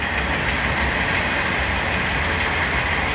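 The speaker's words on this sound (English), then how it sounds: "Trains going by, my window's open because it feels warm in my truck" A passing train rumbles steadily outside the open window of a parked truck, a loud broad continuous roar with a faint rhythmic clatter and no voices.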